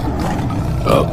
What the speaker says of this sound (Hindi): ये तो शेरों के दहाड़ने की आवाज है।